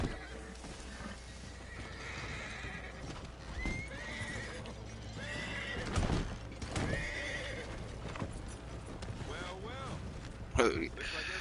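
Horses pulling a wagon in a Rockstar Western video game: steady clip-clop of hooves with neighs and whinnies, wagon rumble beneath, moderately close, with someone talking over parts of it.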